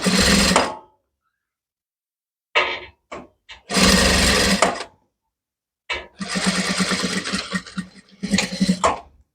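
A sewing machine stitches fabric for a kimono jacket in several bursts, short runs and longer stretches of rapid buzzing with silent pauses between, close and loud.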